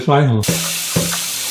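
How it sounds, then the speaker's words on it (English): Cold tap water runs steadily into a sink while rice is rinsed for a Cantonese steamed chicken dish, with a brief voice at the start. "just rinse the rice in cold water."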